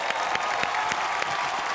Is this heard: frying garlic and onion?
no